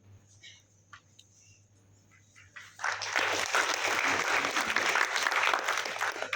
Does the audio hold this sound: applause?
yes